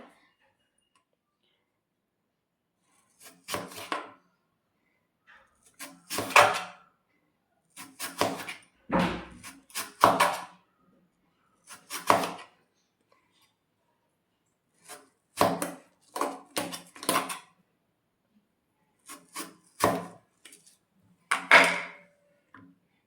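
A potato is cut into small pieces with a slicer, giving clusters of sharp crisp chopping clicks in irregular bursts separated by silent pauses, close and dry.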